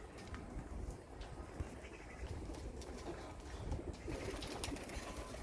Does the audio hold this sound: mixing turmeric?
no